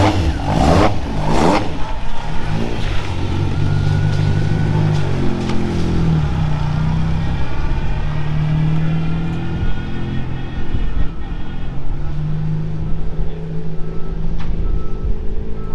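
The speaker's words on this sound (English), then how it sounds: "First run on all 4 cylinders." A Mk2 Ford Escort Mexico with a Duratec four-cylinder engine revs hard on a dyno, running on all four cylinders, its loud, sustained engine drone rising and falling through several throttle sweeps with no talk.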